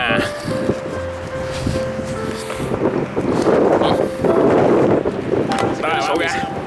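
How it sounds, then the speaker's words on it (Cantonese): Strong wind buffets the microphone outdoors near a hotel by the water, a loud continuous roaring rumble that swells midway. Voices talk over it. "好大風啊！"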